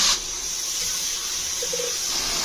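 Water poured into spice masala frying in a pan, with a sharp initial burst, then a sustained steamy hiss and sizzle that carries on steadily.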